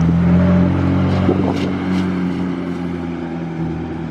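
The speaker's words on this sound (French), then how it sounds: "Qu'est-ce qui arrive? Ah bah la McLaren Elva." A McLaren Elva supercar passes on a Monaco street, its engine a loud nearby roar that swells with a quick throttle blip and then fades as it moves away.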